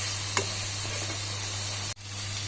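Ground turmeric and coriander stirred through a hot pan for a yogurt chicken curry, a steady sizzle running throughout with a soft scrape and a brief thud near the end; no voices.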